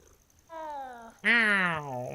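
A cat in the video game Hogwarts Legacy gives two drawn-out tonal meowing calls, the second louder and closer, against a quiet background.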